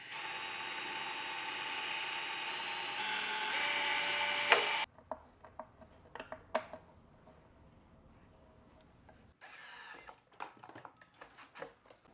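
A drill drives screws from the back into plywood, with a scrap piece of wood held behind it, whirring loudly and steadily for about five seconds before giving way to scattered knocks and clunks.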